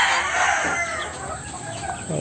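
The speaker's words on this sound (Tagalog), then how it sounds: "Dito yung iba kong manok." Chickens cluck and a rooster crows nearby, the calls overlapping in a busy, loud barnyard chorus.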